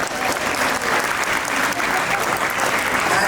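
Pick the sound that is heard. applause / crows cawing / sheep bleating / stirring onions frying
applause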